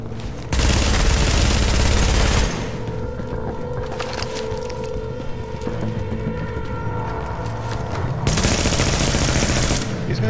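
Rapid automatic gunfire from a turret in a video game rattles continuously for about ten seconds, with heavier bursts at the start and end over a steady dense clatter.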